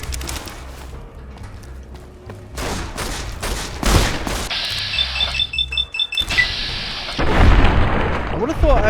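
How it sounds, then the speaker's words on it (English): A shotgun fires repeatedly in the game Fallout New Vegas. Loud blasts come in a rapid, uneven series among other game effects and bright electronic tones, with some background game noise throughout. "Ooh, that shotgun sounds really cool."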